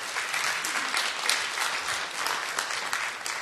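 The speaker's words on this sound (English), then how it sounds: "Let's give them another applause." Summit audience applauding panelists, a full, sustained burst of many people clapping at moderate loudness, dense and even with scattered sharper claps, no speech over it.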